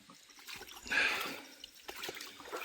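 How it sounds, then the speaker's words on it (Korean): A small amount of water trickles down a shallow creek after a dry spell, a faint, close gurgling that swells briefly and then continues softly. "개울에 물이 아주 조금씩 내려와요."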